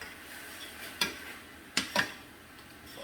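Peppers sautéing in a pan, heard as a few brief sharp scrapes and stirs over a low, steady sizzle, close and fairly quiet.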